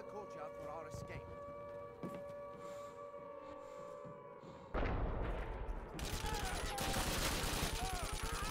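MG34 machine gun fire in Call of Duty: United Offensive, erupting suddenly after a quieter stretch with a wailing siren, then turning into dense, rapid, loud bursts that continue to the end.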